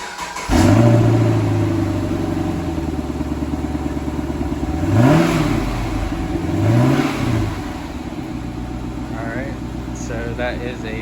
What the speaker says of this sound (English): start up my wife's Camaro so you can hear what it sounds like